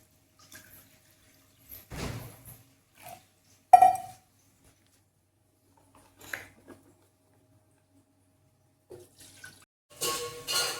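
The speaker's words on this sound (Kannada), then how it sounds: "ಅದಕ್ಕೆ 8 ಬೌಲ್ ಅಷ್ಟು ನೀರು ಈ ಬೌಲಿಂದ ಕೆಟಲಲ್ಲಿ ಹಾಕ್ಕೊಳ್ಳಿ" Water tipped from a bowl into an electric kettle for cooking rice, heard as a few short, sparse splashes and clinks with quiet gaps between them and a brighter splash near the end.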